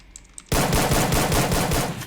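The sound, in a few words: gunfire from a gun in the video game Free Fire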